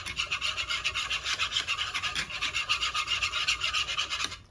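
A whisk beats a mixture for homemade chicken nuggets in a bowl, giving a steady rapid rhythmic scraping rasp, close and moderately loud, with no talking.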